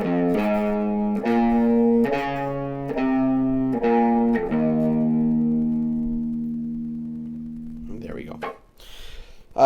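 A tuned-down electric guitar plays the closing phrase of a song: a series of picked chords and notes ending on a long, ringing sustained low note that fades, followed by faint handling noise.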